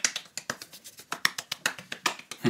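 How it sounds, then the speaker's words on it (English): A single person's hands clap in a quick, close, even rhythm, about a dozen crisp claps in intimate quiet. "Let me clap for you."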